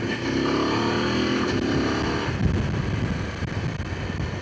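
A Voge DS900X motorcycle engine pulls hard and loud up close, its tone rising and then changing as the quickshifter snaps it from first through second into third gear, with wind rush over it.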